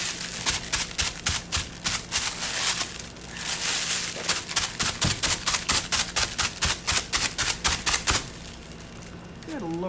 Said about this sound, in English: sorry for the crinkly noise, I know it's hard to hear me over it.